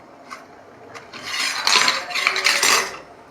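Flat beans are tipped into a pot of cooked lentils, making a short cluster of clattering, clinking pot and utensil sounds that builds and fades over a few seconds.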